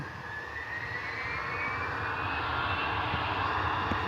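Airplane engine roaring steadily and rising in pitch as it speeds up for takeoff at an airport, a loud continuous drone heard from nearby, no talking.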